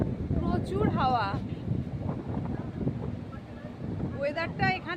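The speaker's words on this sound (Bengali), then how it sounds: "প্রচুর হাওয়া" Strong wind buffets the microphone at a train stop with a loud, steady low roar throughout, while people talk and a voice comes through at the start and end.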